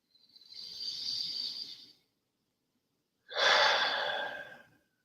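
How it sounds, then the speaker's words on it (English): Two deep breaths taken during an EFT tapping exercise, a long airy inhale followed after a pause by a louder, breathy exhale, close and without speech. "Take a few deep breaths."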